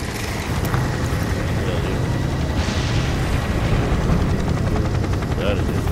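GCPD police helicopter in the Gotham Knights video game, a steady loud rotor drone filling the scene with constant low rumble throughout.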